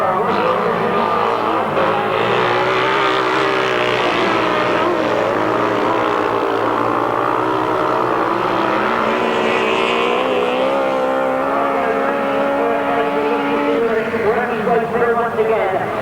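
Several 1000cc right-hand sidecar outfits race on a grasstrack at the 1992 Bonfire Burnup meeting, a loud, continuous multi-engine roar with shifting revs throughout, and a commentator talks over it.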